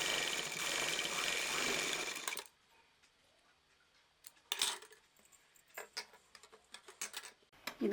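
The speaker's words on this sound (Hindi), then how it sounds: "ये दूसरी साइड भी हम सिलाई लगाएंगे।" A sewing machine runs steadily for about two seconds while stitching the second sleeve of a frill frock, then stops. Scattered clicks and light handling knocks follow in a quieter stretch.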